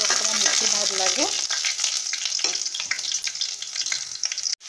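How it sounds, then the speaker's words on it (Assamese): Onions frying in oil in a pan, browning for a chicken dish: a loud continuous sizzle with stirring scrapes and a brief voice early on, ending in a sharp clatter. "এয়া পিঁয়াজখিনি অকণমান ৰঙচুৱা কৰি ভাজি আছোঁ"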